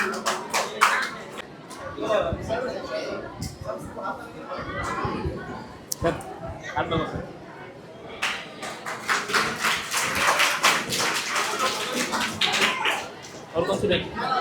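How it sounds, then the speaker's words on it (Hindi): An audience at an EBT High School farewell program for a departing teacher claps in a scattered, then swelling round of applause, mixed with talking and chatter from the crowd. "जोरदार तालियां इन सभी के लिए"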